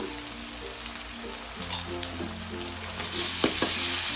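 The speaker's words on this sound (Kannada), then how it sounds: "ಈರುಳ್ಳಿ ಚೆನ್ನಾಗಿ ಫ್ರೈ ಆಗಲಿ" Chopped onions with ginger garlic paste sizzle steadily in a hot pan, close and continuous, with occasional scrapes and clinks as the mixture is stirred.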